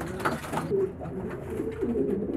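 Pigeons coo softly in a loft, a few low, throaty warbling calls repeating close by over faint background noise, with no one speaking.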